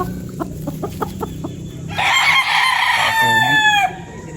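A young fighting rooster, a stag, crows loudly and close by in one long drawn-out call, preceded by a short series of clucks.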